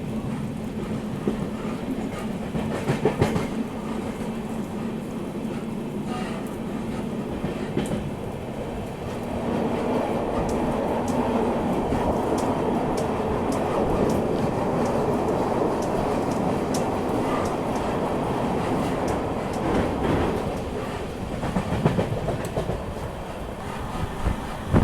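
Amrit Bharat Express passenger train crossing the Netravati River bridge in coastal Karnataka in the early morning, heard from on board as a continuous loud rumble with rhythmic clickety-clack of wheels over rail joints throughout.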